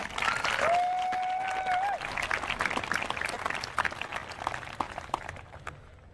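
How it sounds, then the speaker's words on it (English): High school graduation crowd applauding for parents and families, broad clapping from a large audience that holds strong at first, then thins into scattered claps while a brief voice or whistle rises over it. "So students, please give your parents and family a big round of applause."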